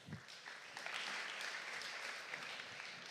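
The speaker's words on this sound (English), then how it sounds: "Give him a big applause, please, for Hermann." A conference hall audience at the Ars Electronica Festival claps steadily for about three seconds, a dense wash of applause without voices.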